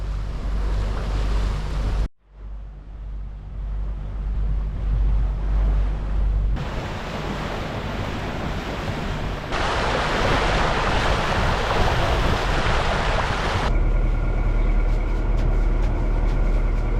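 On a sailboat moving under a light breeze on the St. Lawrence near Rimouski, waves wash against the hull alongside rushing wind, loud and close, with abrupt shifts in intensity and a brief dropout early on.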